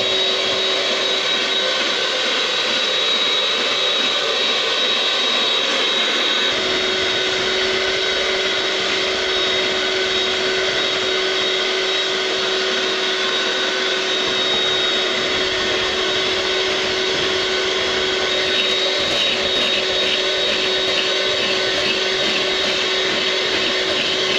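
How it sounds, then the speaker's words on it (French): Electric mixer whipping meringue for a Christmas yule log decoration at maximum speed, a steady loud whirring drone that runs unbroken throughout, its pitch shifting slightly partway through. "on mixe. Vitesse maximale."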